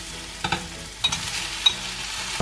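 Mushrooms frying in a pan, a brief close sizzle broken by a few sharp scraping stirs and clatters, with no voices.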